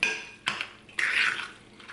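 A spoon scrapes and clacks against a bowl as drained corn and Rotel are mixed into a dip, with a few distinct stirring strokes close by and no talk.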